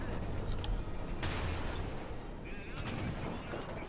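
Cannon fire from an Sd.Kfz.234/2 Puma armoured car in the War Thunder video game: a sharp blast breaks through a dense, continuous rumble of engine and battle noise.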